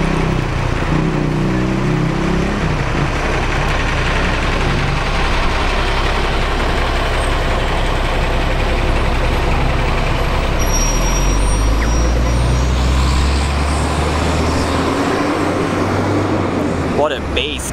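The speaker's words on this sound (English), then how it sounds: "It's such a good bus and it's so loud, you can hear it coming from a mile away." A loud bus engine rumbles steadily at the Shepparton bus interchange, a heavy, close and continuous drone that fills the whole stretch, with traffic noise around it and a brief hiss near the end.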